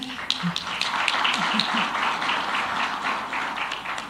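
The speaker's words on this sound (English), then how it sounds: "please one round of applause for Professor Lenkabula" A university celebration audience applauds, a dense wash of many hands clapping at moderate loudness, with a few sharper claps and faint voices mixed in.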